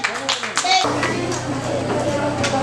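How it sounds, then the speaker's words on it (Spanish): Applause for a student at a school farewell event in Río Oeste Arriba, dense clapping from a crowd with children's voices mixed in, a steady low hum underneath, continuing throughout. "Aplauso."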